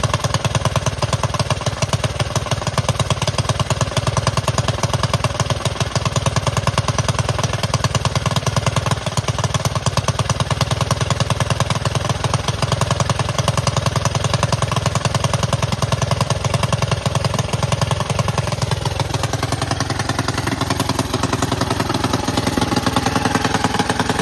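Alcohol-fueled racing go-kart engine fired up and running rough, a loud, close, rapid staccato chatter held steadily for over twenty seconds with no talking, its tone shifting slightly near the end.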